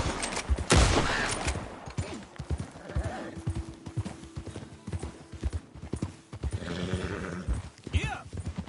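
Scattered gunshots crack through an open-world scene in the video game Red Dead Redemption 2, mixed with clopping horse hooves and background clatter. Someone talks over the moderate, busy action.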